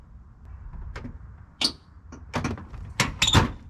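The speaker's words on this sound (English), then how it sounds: "Shut the door again." Car door on a 1999–2005 Pontiac Grand Am being shut, a few separate thumps and clunks close by with short quiet gaps between them and no talking.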